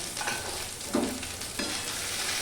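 Grated ginger frying in a pan for a snake gourd mash, a steady sizzle broken by two or three short scrapes of a spoon stirring, close up with no voices.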